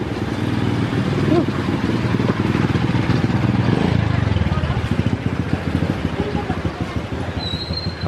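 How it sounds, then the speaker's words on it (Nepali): A motorcycle engine on a steep uphill road near Sundarijal, loud and close, with a steady pulsing rumble that builds toward the middle and then fades slightly. "बाइक पनि आउँदो रहेछ त यहाँसम्म यार।"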